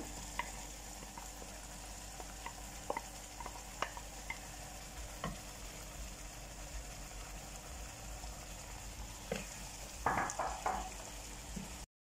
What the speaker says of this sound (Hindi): तीन से 4 मिनट मैंने दाल को फ्राई कर लिया है